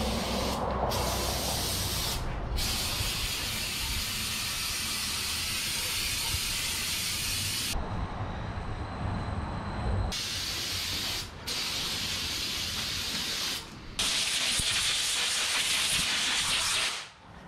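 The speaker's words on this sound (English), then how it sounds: "For prep work, we're gonna hit it with the basics. A brake clean prep job." An aerosol can of brake cleaner sprays a cast part on a 1961 wagon during prep work, making long, loud, close hissing bursts with brief pauses between them and no talk.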